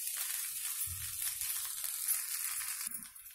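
Carrots and fried rice with coconut stir-fry in a pan over a high flame, a steady bright sizzle broken by a few soft low scrapes and thumps, close and continuous with no talk.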